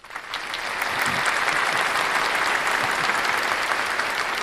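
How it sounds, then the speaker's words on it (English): A small group claps together in a steady, dense burst of applause that builds quickly and holds loud and even throughout, with no talking over it. "That's well deserved of a clap."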